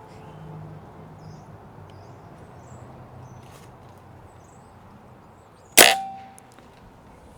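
An air rifle fires a single pellet at a target board, a sharp sudden crack with a brief ringing tail against quiet outdoor background, with faint birds and a second click at the very end.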